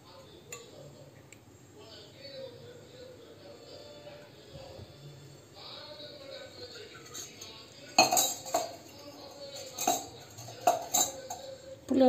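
A spoon stirring peanuts, green chillies and curry leaves in a kadai on the stove for mango pulihora, quiet at first, then a run of sharp metallic clinks and scrapes against the pan.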